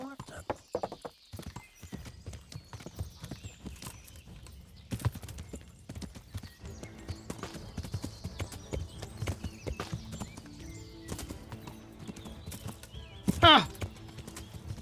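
Hooves clip-clop in a fast, steady gallop as a horse runs in the medieval video game Kingdom Come, with a sharp whinny near the end and game voices and sounds layered in.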